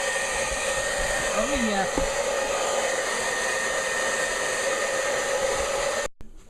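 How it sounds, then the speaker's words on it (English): A hair dryer blows steadily with a loud, constant whooshing hum; a voice speaks briefly over it before it shuts off near the end. "Not happy about the hairdryer at all."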